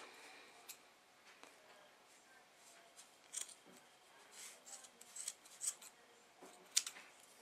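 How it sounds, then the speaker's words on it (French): Scissors snip around the sides of a yarn pompom, giving scattered soft close cuts with quiet rustling between them in an otherwise still room. "Et maintenant, je vais couper les côtés."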